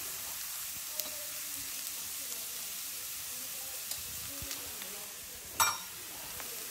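Bitter gourd frying in a pan with chili powder and a little chana dal powder, giving a steady soft sizzle throughout with faint stirring clinks and one brief louder scrape near the end.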